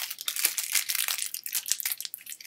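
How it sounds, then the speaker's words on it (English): Dense crackling and crinkling like wrapping paper, coming from everywhere at once and believed to be a locust swarm at night, steady and unbroken with no voices. "And I hear this crackling noise, almost like wrapping paper."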